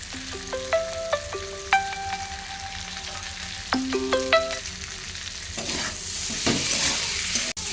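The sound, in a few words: potatoes sautéing in a pan with salt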